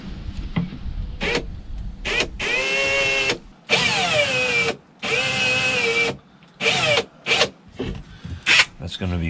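A power drill whines in repeated bursts, spinning up and biting into wood near an edge, with short pauses between runs and some speech nearby.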